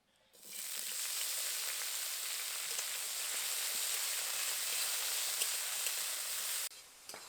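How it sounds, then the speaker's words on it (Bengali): Broccoli sizzling steadily in hot mustard oil, a loud continuous crackling hiss that starts abruptly and holds evenly for several seconds before cutting off near the end. "পরিমাণ মতো সর্ষের তেল দেব ব্রোকলিগুলো এবার তেলের মধ্যে দিয়ে দেব"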